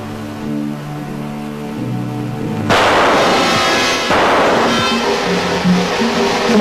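Loud rifle gunshots in a 1975 Hindi action film crack out, the first sharp blast followed by a second, with rumbling echoes and some background noise between them.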